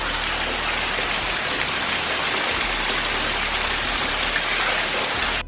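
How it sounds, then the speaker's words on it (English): Heavy rain pours outside during a thunderstorm, a dense, steady hiss of drops drumming on surfaces, close and unbroken for the whole stretch with no voices. "it is thundering and lightning outside like you wouldn't believe"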